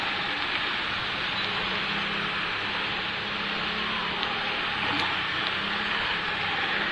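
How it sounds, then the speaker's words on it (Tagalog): Heavy rain pours steadily as a dense, even hiss with scattered drips and faint background sounds, in a flooded street setting. "Grabe ang lakas na naman ng ulan."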